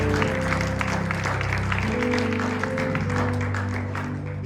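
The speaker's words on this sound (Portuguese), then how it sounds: "Você poderia dar uma salva de palmas para o Senhor?" Church congregation applauding together during a sermon, a steady dense wash of clapping with sustained tonal music playing underneath throughout.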